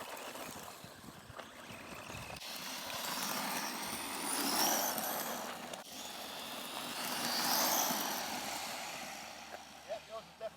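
HBX Ground Crusher 1/12-scale RC car with a plastic body driving at three-quarter throttle, a whining motor rising and falling in two broad passes, with people talking nearby.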